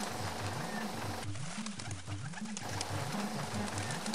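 Soft, rhythmic cooing of an animated cartoon pigeon repeats in low rolling phrases over a steady background hiss.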